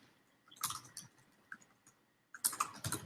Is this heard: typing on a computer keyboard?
yes